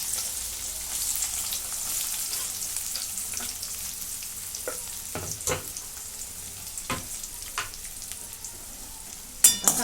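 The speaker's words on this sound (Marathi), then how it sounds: "आता कांदा भाजून घेते." Chopped onion and cumin sizzle in hot oil, a steady frying hiss with scattered louder crackles and pops, plus a few sharp stirring clicks near the end, with no voices present.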